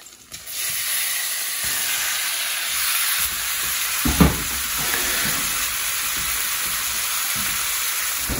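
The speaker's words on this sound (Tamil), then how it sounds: "பீஃப் ஸ்ட்ரிப்ஸை வந்து நம்ம பேனில் போட்டுக்கிறோம்." Beef strips sizzle and fry in melted butter in a pan, a steady close hiss that runs the whole time, with a brief louder crackle burst as the meat is stirred partway through.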